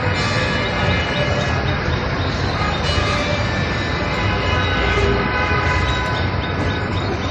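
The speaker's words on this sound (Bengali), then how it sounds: "আমি এখন অবস্থান করছি ঢাকা বিমানবন্দর রেলওয়ে স্টেশনে।" A train at Dhaka Airport railway station, loud and close, with a sustained horn blowing over the steady rumble of rail cars for several seconds.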